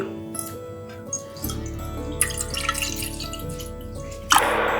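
Water is poured into a cooking vessel for a neem-shoot decoction: a close, continuous trickling and splashing that swells midway, with a brighter burst of splashing at the end.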